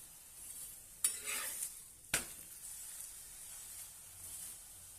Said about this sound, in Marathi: छानपैकी दोन्ही बाजूने भाजून घेऊया.